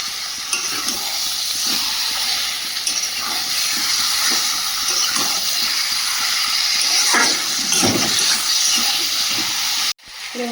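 Chicken pieces dropped into hot, well-browned spice paste in a pan sizzle loudly and steadily with a broad hiss, with stirring scrapes throughout, then a brief cut near the end.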